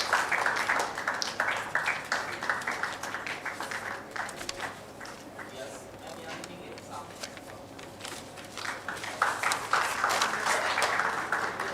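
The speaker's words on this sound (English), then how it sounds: "Please give her a big round of applause." Audience applause for an award winner at a medical conference ceremony, dense clapping that dips midway and then swells again, loud and close, with some voices mixed in.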